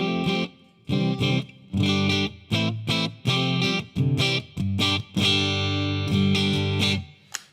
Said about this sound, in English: They give you that kind of washy, surfy kind of reverb sound.